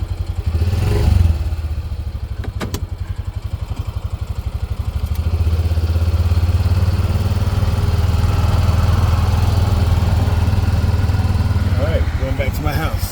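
A Sawzall reciprocating saw run from an EcoFlow Delta 2 power station cuts through yard material, giving a loud, steady buzzing drone with rapid pulsing that holds for most of the stretch, preceded by a brief start and some clatter.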